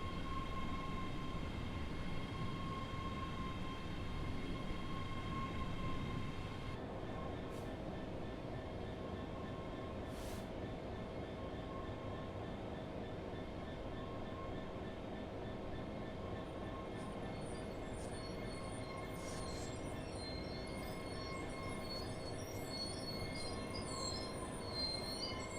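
A train running on rails in the Train Sim World 4 video game on the Edinburgh to Glasgow line: a steady, continuous rumble with a long, high wheel squeal that runs throughout, faint and without voices.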